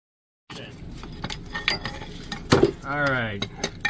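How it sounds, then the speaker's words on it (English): Roller bearings in a Winnebago RV wheel turn by hand during a brake change, giving a close, rapid mechanical ticking and clicking with a brief scrape and a short rising whir near the end. "You can hear the bearings, the roller bearings going."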